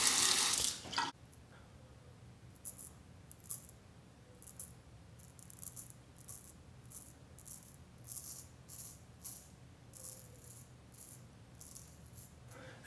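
A burst of running tap water opens the scene, then stops, followed by a series of quiet rhythmic metallic rattles and scrapes as a straight razor is rinsed and handled close by.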